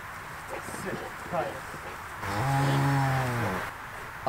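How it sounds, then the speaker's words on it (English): A deep, drawn-out Pineywoods cow moo, calling for her calf, swells for about a second and a half, near and loud, preceded by soft talking in the background. "It's a real deep mama moo."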